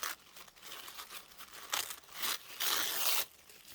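Paper is torn by hand into pieces for a collage, giving several short ripping bursts with soft crinkling between them, close and alone.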